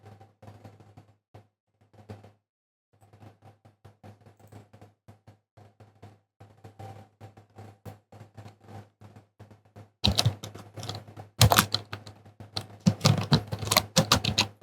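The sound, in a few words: typing on a computer keyboard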